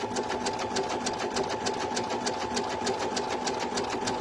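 An embroidery machine runs a steady satin stitch on vinyl for an in-the-hoop e-reader sleeve project, its needle striking in a fast, even rhythm with a constant mechanical hum throughout, close and alone.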